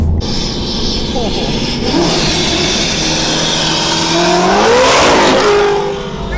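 A 900 whp Procharger-equipped car drives and revs hard, its loud engine note rising and falling in sweeping pitch changes, heard from inside the car with people talking over it.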